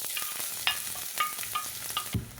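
Finely chopped onions sautéing in a pan, giving a close, even sizzle punctuated by repeated spatula clicks and scrapes and one louder knock near the end, with no voices.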